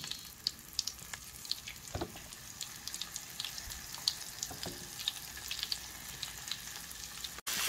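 Shrimp frying in well-heated oil in a pan over medium-high heat, a soft, steady crackle and sizzle with scattered pops and a few faint clinks, quiet and unaccompanied by talk.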